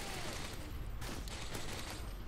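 A light machine gun in Modern Warfare 2 fires sustained, rapid bursts, loud and dense, with brief breaks between volleys and no talking over it.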